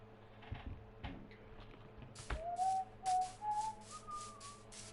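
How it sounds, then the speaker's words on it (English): A person whistles Aerith's theme from Final Fantasy VII, a few clear sustained melodic notes rising gently, close and fairly loud, following some soft clicks and background noise. "Why the fuck do we keep whistling Aerith's theme?"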